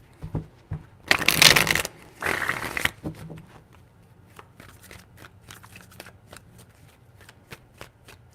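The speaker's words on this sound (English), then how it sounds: "Three shuffles." Tarot cards being shuffled: two crisp, rustling bursts close by, the first louder and longer, followed by faint handling taps and quiet background rustle.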